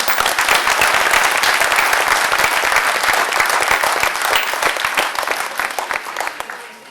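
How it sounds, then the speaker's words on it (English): A temple gathering audience claps together in a dense, lively round of applause, loud and steady at first, then gradually thinning and fading toward the end. "Please clap your hands."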